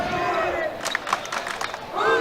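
Boys high school basketball crowd in a gym chanting and yelling in loud, sustained waves, with scattered shouts and claps and a swell of voices near the end.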